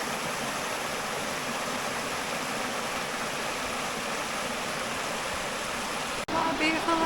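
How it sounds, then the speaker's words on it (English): A river flows under a bridge, a steady, loud broadband rush of water that fills the scene without a break and then shifts abruptly near the end. "This is a bridge here over the river."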